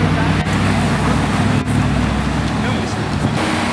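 A Porsche Boxster rolls past at a Praça da Espanha car meet, its steady engine hum and tire roar blending into loud, constant roadway noise with a couple of brief dips.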